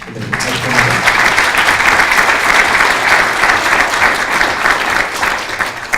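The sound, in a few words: audience applause at a conference plenary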